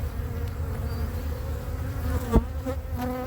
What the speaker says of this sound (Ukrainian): Молода бджола ходить